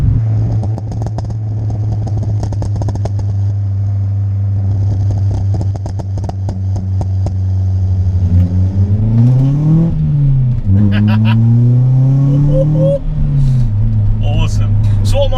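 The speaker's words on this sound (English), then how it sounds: "You can also feather the throttle very, very easily to get all them pops and bangs coming out the back." A Ford Fiesta MK6 ST engine idles steadily, then revs up and down in several throttle blips, loud and close, with speech over it; the exhaust pops and bangs are not clearly distinct.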